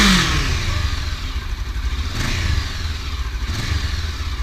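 A motorcycle fitted with an aftermarket exhaust runs at a steady low idle, with a deep, even rumble and light mechanical clatter heard up close and alone.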